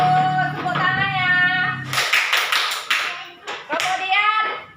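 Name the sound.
children clapping in a classroom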